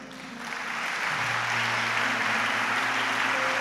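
A church congregation bursts into applause, the clapping swelling within the first second into a dense, steady roar of many hands that fills the room, with a low hum of sound system or organ tone underneath.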